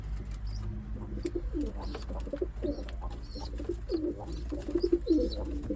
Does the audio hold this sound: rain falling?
no